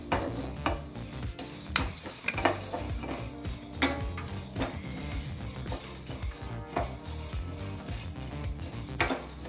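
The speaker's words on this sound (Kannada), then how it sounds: "ನಾವು ಈ ಪದಾರ್ಥಗಳನ್ನೆಲ್ಲ ಚೆನ್ನಾಗಿ ಹುರ್ಕೊಂಡಾಯಿತು" Poppy seeds, mustard seeds and curry leaves dry-roasting in a pan over a medium-low flame, stirred and scraped continuously with a utensil, giving close metallic scraping, light rattling and a soft sizzle, with no talking.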